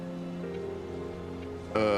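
A Hailstorm spell in the action RPG Grim Dawn makes a steady, pattering rain-like wash under sustained game music tones, then swells into a louder, brighter burst near the end.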